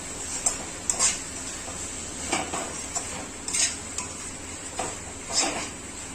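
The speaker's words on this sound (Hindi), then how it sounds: "अब इसे भी हम 5 मिनट तक भून लेंगे" Kareel and okra curry stir-fried in a pan, with a spatula scraping and clinking against the metal in scattered strokes over a soft, steady sizzle, close by and without talk.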